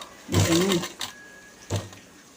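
A sewing machine sounds in short, close bursts, two quick runs with a pause between them, while top-stitching fabric at a quarter-inch line.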